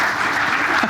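An audience at a panel on electoral transparency breaks into dense, loud applause that holds steady throughout, with no voices over it.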